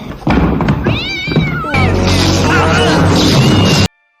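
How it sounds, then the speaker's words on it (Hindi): A dangerous cat yowls and caterwauls in a scene from the 1997 comedy film Mousehunt, loud and close, with thuds and crashing impacts mixed in before the sound cuts off abruptly. "कैटजिला नाम की एक खतरनाक बिल्ली घर में लाकर छोड़ देते हैं"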